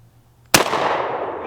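A single very loud gunshot from a big gun cracks out close by after a quiet moment, followed by a decaying roar and echo.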